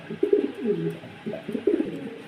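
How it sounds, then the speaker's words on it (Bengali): Pair of fieldback fancy pigeons cooing in a series of low, rolling, throaty calls, close and moderately loud, with faint higher background noise. "আরেক জোড়া কবিতর রয়েছে দেখতে পাচ্ছেন, ফিল্ডব্যাক কবিতর।"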